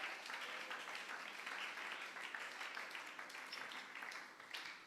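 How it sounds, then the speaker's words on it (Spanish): A church congregation applauds in a continuous wash of clapping that stays fairly distant and soft throughout, with no voice rising above it. "Alabe al Señor con ese aplauso fuerte"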